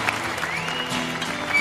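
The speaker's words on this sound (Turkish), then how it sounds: "Bir alkış alalım." Brief applause rises on a Turkish televised singing competition stage, fairly soft clapping heard alongside a voice and a faint tonal backing.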